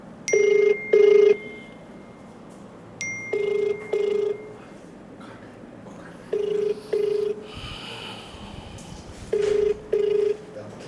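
Ringback tone on a phone call, heard as four evenly spaced double rings, each pair a short steady tone, loud and clear over a faint background with no voices.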